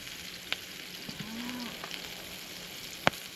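Salmon frying skin side down in a pan at a motorcycle campsite in Cambridge, a steady low sizzle throughout, with a faint low moo-like tone in the background and a couple of sharp clicks.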